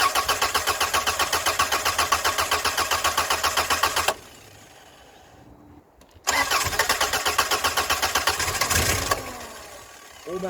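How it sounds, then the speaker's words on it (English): A Rover 45 Impression S3 CVT car engine cranks with a fast, even starter chatter for several seconds, pauses, then cranks loudly again before it catches and runs after a service. "We can now put the fuse back in and start the car properly."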